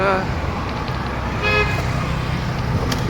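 Morning road traffic on a cycling ride toward Bhayandar, a steady engine and tyre rumble with a couple of short car horn toots, close and moderately loud.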